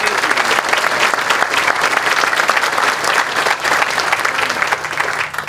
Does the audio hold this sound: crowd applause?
yes